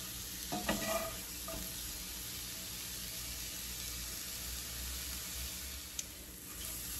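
Mushrooms frying in a pan over medium-high heat, giving a steady close sizzle with a few stirring scrapes near the start, and no talk.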